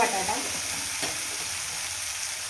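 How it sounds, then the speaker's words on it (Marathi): Potatoes and onion sizzling while being stirred in a kadhai for green chilli masala rice, a steady close frying hiss with a faint scrape of the spoon partway through, no talking. "बटाटा पण छान परतून घ्यायचा."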